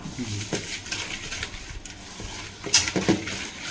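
A spoon scrapes and stirs a non-vegetarian dish with vinegar in a pan, a continuous close clatter over a soft sizzle of frying.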